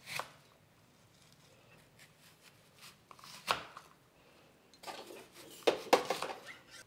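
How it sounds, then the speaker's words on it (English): A knife finely dicing an onion on a cutting board, scattered light taps and a few sharper clustered chops near the end, close but mostly quiet with no talk. "So we're gonna finely dice the onion."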